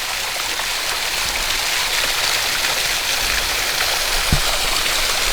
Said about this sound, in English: Little waterfall on the bluffage.